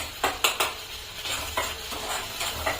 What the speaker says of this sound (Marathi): तेल टाकून घेतलं आणि जो आपण हा मसाला केलेला आहे तर तो त्यामध्ये छानपैकी फ्राय करायचा